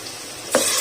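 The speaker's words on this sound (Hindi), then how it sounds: "अब मैं इसमें मैरिनेट किया हुआ सारा चिकन डाल दूंगी।" Marinated chicken hits a hot pan with a sudden burst of sizzling that continues steadily and close by for the rest of a brief moment.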